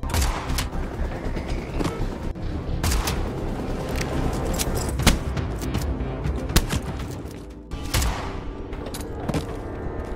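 Gunfire in an action film shootout, repeated sharp shots and bursts scattered across a dense, loud mix with thumps and booms, some shots closer and punchier than others.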